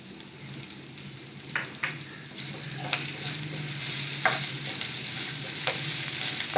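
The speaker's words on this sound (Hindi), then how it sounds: "हल्का हल्का भूनते जाएंगे।" Fennel seeds, garlic and finely chopped green chillies frying in a pan, a steady bright sizzle throughout with occasional spoon clinks and scrapes, no talking.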